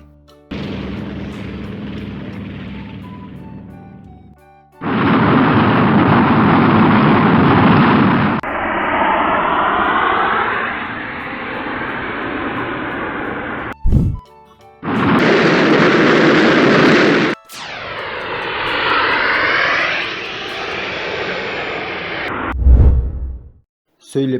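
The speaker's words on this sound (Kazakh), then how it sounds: "Ғарыш зымыраны." A space rocket launch comes through as a series of loud, broad roaring bursts and rumbling swooshes, broken by abrupt cuts between segments, with no speech.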